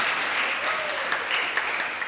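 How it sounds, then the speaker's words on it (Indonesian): A school audience at a student talk show applauds, with dense, steady clapping sustained throughout and scattered brighter claps standing out. "tepuk tangan untuk kita semua"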